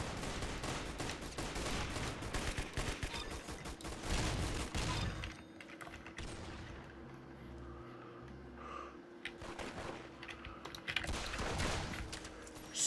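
Gunfire in the video game Arsenal rattles as dense, rapid automatic bursts for about five seconds. After a quieter stretch with low hums and scattered shots, more scattered fire follows.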